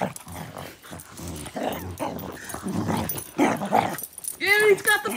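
A dog whimpers, yips and growls in short bursts between a person talking to it during play with a ball, ending in a louder, higher whine.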